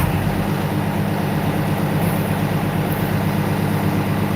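A bus engine idles steadily after a cold start, a deep low rumble holding constant and close throughout with no talking.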